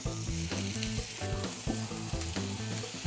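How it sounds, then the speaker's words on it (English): Pork frying in scallion oil in a hot pan for spicy stir-fry jeyuk bokkeum, an intense close sizzle with rapid, repeated tossing and scraping strokes. "I'm gonna throw in the pork."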